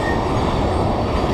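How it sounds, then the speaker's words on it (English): A big train with freight and fuel cars rolls past on the tracks near Union Station, a steady loud rumble filling the whole stretch with no break and no voices. "Trains approaching Union Station."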